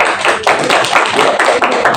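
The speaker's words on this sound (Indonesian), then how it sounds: "Boleh tepuk tangan untuk Roma" Classroom applause for a student named Roma, a steady patter of many hands clapping close by for about two seconds, with no talking over it.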